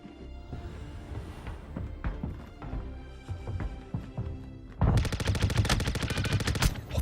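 Sci-fi weapons fire in Star Citizen, first scattered single shots and short bursts, then a dense, loud sustained automatic volley over the final couple of seconds, with no talking.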